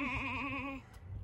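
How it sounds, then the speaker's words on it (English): A big goat at a historic plantation site gives one loud, drawn-out bleat from close by, with a wavering voice that cuts off abruptly and leaves quiet behind it. "Oh, that's a big goat over there."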